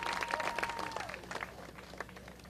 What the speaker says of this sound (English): Clap it up for him one more time, y'all.